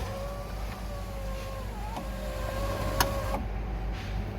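A Defender 110 Country Station Wagon window regulator mechanism drops down inside the door with a steady motor whine and a couple of sharp clicks and knocks near the end, close and fairly quiet.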